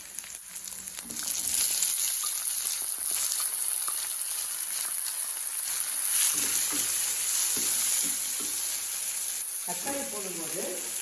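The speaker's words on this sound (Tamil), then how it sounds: "இப்போ தக்காளி சேர்த்துக்கலாம்." Tomatoes hit a hot pan for rasam and sizzle steadily throughout, a close, continuous frying hiss with brief stirring scrapes near the end.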